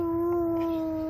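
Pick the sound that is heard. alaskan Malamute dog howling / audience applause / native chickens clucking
alaskan Malamute dog howling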